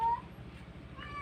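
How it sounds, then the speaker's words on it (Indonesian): Male cats fighting over a female cat give a drawn-out, whining meow that rises and wavers, a single close moan over a low background rumble. "kucing betina yang diperebutkan oleh banyak kucing jantan"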